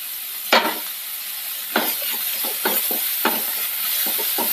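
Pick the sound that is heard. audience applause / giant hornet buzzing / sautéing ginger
sautéing ginger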